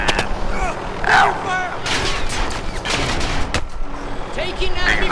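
Bursts of enemy gunfire in a multiplayer shooter game crackle in repeated volleys of varied loudness, mixed with clanking mechanisms and game effects throughout.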